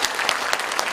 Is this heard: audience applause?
yes